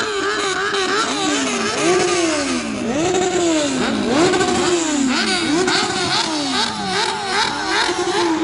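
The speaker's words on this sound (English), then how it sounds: "People confirming that the rev limiter works on their motorcycle." A motorcycle engine is revved repeatedly against its rev limiter during a street protest in Minneapolis, giving loud, close, continuous rising and bouncing sweeps of engine pitch over several seconds with no talk.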